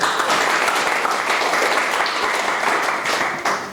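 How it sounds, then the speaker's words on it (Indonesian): A university class of students applauds together before a lecture: a dense, loud, steady burst of clapping that tapers slightly at the end, with no talk over it. "Beri tepuk tangan dulu buat kita teman-teman"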